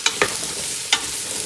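Minced ginger, garlic and onions sautéing in a pan: a low, steady sizzle broken by three sharp scrapes of stirring, close and fairly quiet.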